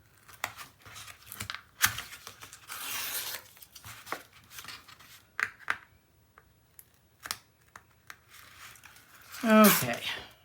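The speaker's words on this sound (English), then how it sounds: "then I will pull this back and remove the rest of the tape" Tape peeled slowly off a paper mini-album page, with soft intermittent tearing and crinkling scrapes near the microphone, plus a quick rip near the end, while a person talks quietly over it.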